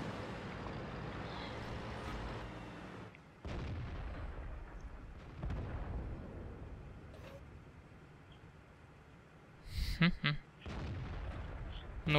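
Tank cannon fire in World of Tanks from an AMX AC mle. 1948, with a sharp blast near the ten-second mark and a second shot close after, over a steady rumble of engine and battlefield ambience.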